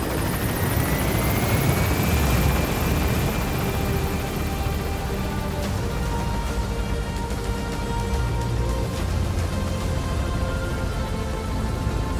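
A helicopter climbs in Metal Gear Solid V, its rotor beating in a loud, steady wash with a rising whine near the start, over a constant rain-like hiss.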